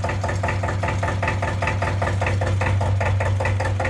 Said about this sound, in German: ihr hört im Hintergrund MWM KD 211Z